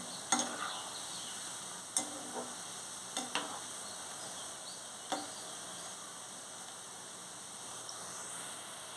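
Fried raw banana curry stirred gently in a pan: a soft steady sizzle with a few sharp spoon scrapes and knocks against the pan, fairly faint and close, no voices.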